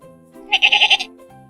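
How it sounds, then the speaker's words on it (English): A single short, clear sheep bleat of about half a second, close and loud, bracketed by quiet background hum. "The sheep says ba."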